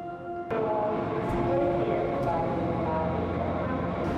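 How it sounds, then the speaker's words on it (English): A train pulls into a Frankfurt station platform, a loud sudden rumble and rolling clatter of wagons with a brief horn-like tone, while voices talk over the steady noise. "I'm looking for my train and I think it's coming in 2 minutes"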